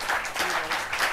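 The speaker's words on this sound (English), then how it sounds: "he deserves a very huge round of applause" A brief burst of audience applause at a public address, moderately quiet, with a few rustling surges across a second or so.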